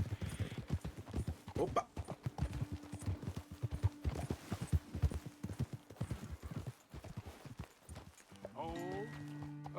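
Horses in Red Dead Redemption 2 clip-clop at a walk in a steady hoof rhythm close by, with a voice speaking briefly over the hoofbeats and a tonal game sound rising near the end.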